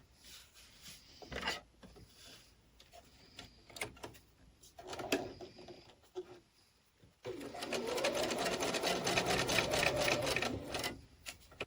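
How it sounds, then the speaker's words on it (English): A sewing machine stitches a Phoenix quilt block seam, starting with scattered handling and short stitch bursts, then running in a longer steady, rapid close rattle for several seconds. "So now I'm going to sew this one on and I'm going to sew it from here to here."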